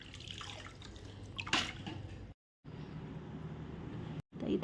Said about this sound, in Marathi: असं पाणी इथं हे झाडांना पाणी टाकायचं